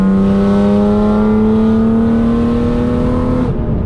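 A loud BMW E36 engine pulling steadily while driving, a strong droning tone rising slowly in pitch, close and continuous before cutting off abruptly near the end.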